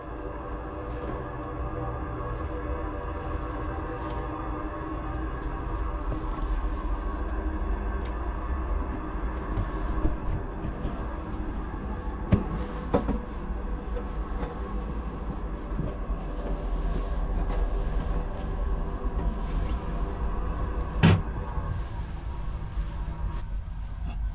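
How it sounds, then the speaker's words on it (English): Twin Perkins Sabre diesel engines run in a ship's engine room, a steady loud low rumble and drone with occasional faint metallic clicks, heard without talk. "So down in the engine room, we have to no surprise, the engines. So we have two, port and starboard Perkins Sabre"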